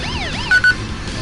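A police siren in the Hard Truck 2 driving game wails with rising and falling whoops, followed by two short electronic beeps, loud and close over a low engine rumble.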